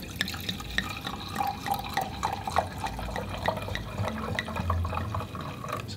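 Red wine pours into a glass in a short, close, gentle trickle with soft glugs and drips, quiet and without talk.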